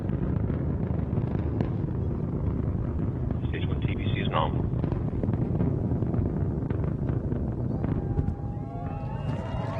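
The engines of a Northrop Grumman Antares rocket roar in a dense, continuous rumble during ascent on a cargo launch to space. The steady roar runs under a commentator's voice reading out vehicle status.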